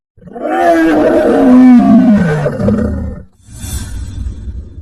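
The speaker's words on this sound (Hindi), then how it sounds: "कुएं में उसकी ही आवाज गूंजकर वापस आई।" A cartoon lion's roar echoing back out of a well: one long, loud, reverberant roar falling in pitch, then a brief gap and a softer, rumbling second burst, with no speech.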